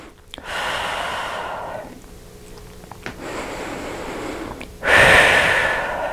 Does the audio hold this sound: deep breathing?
yes